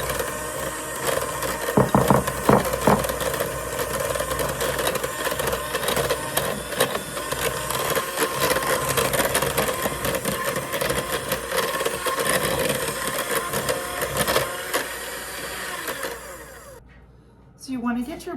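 An electric mixer beating wine cake batter in a bowl, a loud, continuous whirring buzz with rattling that runs for a long stretch before cutting off near the end, with a voice talking over it.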